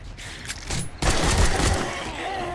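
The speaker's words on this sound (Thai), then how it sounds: "กระสุนปืนที่จะเก็บไว้ในวันที่21 ก็จำเป็นต้องเอามายิงก่อน นะคะ" Guns fire in the zombie survival video game 7 Days to Die during a night attack: a few rapid shots, then a loud, dense burst of gunfire that rumbles on.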